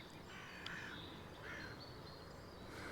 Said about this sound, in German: Das waren jetzt Krähen.